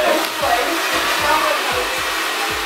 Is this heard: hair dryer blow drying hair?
yes